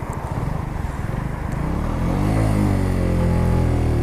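A motorcycle engine chugs low, then rises into a steady, louder drone as it pulls away and climbs uphill, close and continuous.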